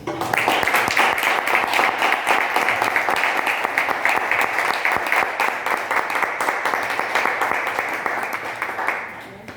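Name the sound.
audience applause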